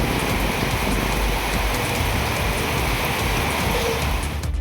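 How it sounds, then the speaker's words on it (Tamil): Heavy rain pouring steadily over the Mudumalai forest, a dense, even hiss of drops hitting foliage and ground, loud and unbroken for the whole stretch with no voices. "மேலாக கனமழை வெளுத்து வாங்கியது."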